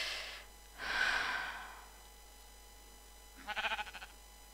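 Sheep bleating in the video game Minecraft: a breathy bleat near the start, a longer louder one around the first second, then a short rapid trembling bleat toward the end, with no talk.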